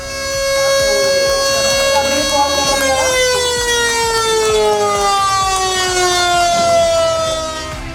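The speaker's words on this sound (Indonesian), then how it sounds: "ditandai dengan penekanan tombol sirine." Siren sounded at the inauguration of an LNG filling station and cargo dock in Bontang: a loud, sustained, harmonically rich wail that slowly falls in pitch over several seconds, then fades, with faint crowd noise underneath.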